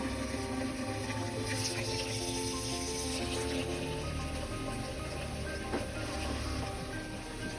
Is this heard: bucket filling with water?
yes